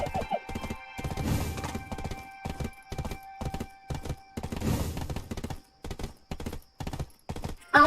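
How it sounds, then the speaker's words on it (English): A fast tier 7 horse gallops in Black Desert Online, its hooves beating a steady, rhythmic clip-clop that swells and fades in repeating bursts, with no talk. "my horse is pretty fast."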